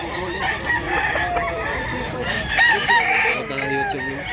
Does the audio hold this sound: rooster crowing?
yes